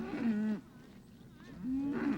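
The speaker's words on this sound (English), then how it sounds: "the Peddles are more content to stick with the herd of beef cattle they've developed over the years" Beef cattle on a sprawling family farm in Bonavista Bay low in two long, loud moos, one near the start and another after a short pause, with no voices.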